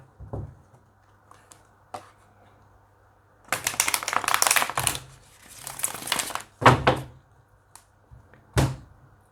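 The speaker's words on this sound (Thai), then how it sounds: "เพื่อที่ทำการเลือกไพ่ทาโร่มาจำนวน 10ใบ" Tarot cards are shuffled and picked by hand, giving bursts of crisp riffling and flicking close by, with several sharp single snaps and pauses between them.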